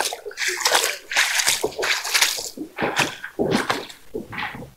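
Water gushing and splashing from the spillway of the Atopula dam, a loud churning rush with uneven surges and sloshing bursts, close by and continuous.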